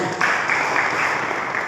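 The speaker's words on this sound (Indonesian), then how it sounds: "Mari kita beri tepuk tangan bagi Tuhan itu." A church congregation at a morning service breaks into applause, a dense, steady wash of clapping from many hands that fills the room for a couple of seconds.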